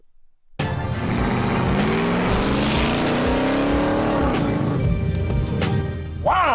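A 20-year-old truck engine with a Borla exhaust roars loudly and close, revving up with a rising pitch and holding a steady, throaty drone for several seconds after a brief quiet start.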